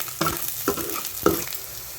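Onions, slit green chillies and curry leaves sizzle in a pan for egg masala curry while a spoon stirs them. There are three distinct scraping strokes, near and moderately loud, over a low steady fry.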